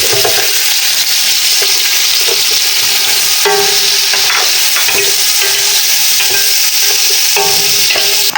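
Loud, continuous sizzle of onions frying in oil fills the clip, dense crackling hiss with scattered pops and occasional scraping of a utensil, no talking.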